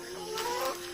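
A chicken clucks briefly in a short, faint burst of throaty calls over a steady background hum.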